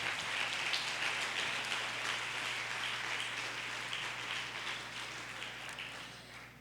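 Congregation at a church family service clapping in applause, a steady wash of many hands at moderate distance that slowly fades, with no talk over it.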